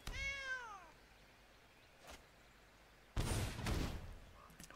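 A cat meow from the Sacred Cat card in MTG Arena, a single harmonic descending meow at the start, followed by faint game effects and a louder burst of card-play sound effects later.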